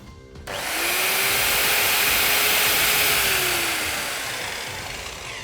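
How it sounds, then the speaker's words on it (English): A heavy-duty metal cutting circular saw (S210CCS) spins up sharply to a loud, steady high whine, then its electronic blade brake slows the blade and the pitch sags as it winds down. "As soon as I ease off the trigger, the electronic blade brake kicks in, stopping the blade in seconds."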